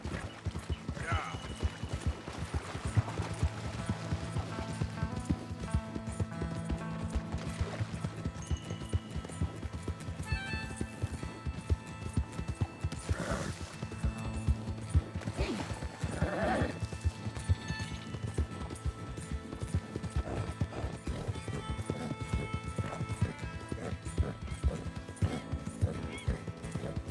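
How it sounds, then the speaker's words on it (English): Horse hooves clip-clop in a steady rhythm at a trot in Red Dead Redemption 2, with an occasional whinny, fairly quiet under a low background hum. "Mr. Mason, I'm borrowing your horse."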